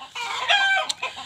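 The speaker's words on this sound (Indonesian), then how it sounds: "Itu suara ayam ya teman-teman, suara ayam yang mau bertelur, yang mau ngendok" A free-range hen about to lay an egg clucks loudly and close by, giving a drawn-out cackling call followed by a couple of short clucks.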